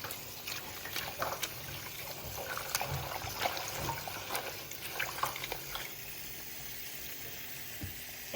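Red and white beetroot are washed under running water, making a quiet, steady rush and trickle with occasional faint splashes and handling knocks.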